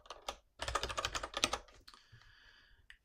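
Rapid clattering keystrokes on a computer keyboard while Python code is typed, a dense burst of clicks followed by a few lighter taps, close and fairly quiet.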